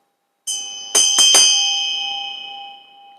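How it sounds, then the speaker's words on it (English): A meditation bell struck during a Buddhist teaching, a bright metallic ring with a few quick strikes, then a long clear tone fading slowly, loud and close, with no talk. "this here we have the bell."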